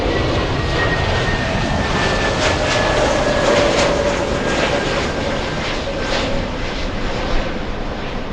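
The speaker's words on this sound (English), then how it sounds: "Asiana moving, and I think it's powering up." A big Asiana airliner powers up its engines at LAX with a steady, loud jet roar and whine, a continuous wash of engine noise heard from outside on the airfield.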